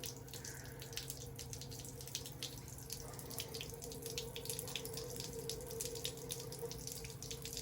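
Water runs steadily from a hose flushing a Honda boat outboard motor, a constant splashing rush with faint drips and gurgles, moderately quiet, with no voices.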